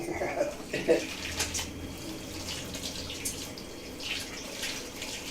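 Water from a tap runs during rinsing while pumpkin pie is made in a kitchen, a steady splashing flow with small clinks, under brief talk.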